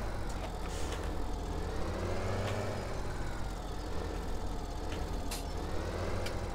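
A truck engine in Farming Simulator 17 drones steadily while reversing, a continuous low rumble at moderate level with no breaks.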